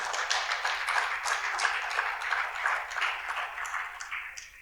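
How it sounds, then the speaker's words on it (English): A summit crowd in Kampala breaks into dense, sustained applause, loud and even for several seconds before tapering off slightly, with little talk over it. "A big round of applause to the team from Africa is Talking in the building"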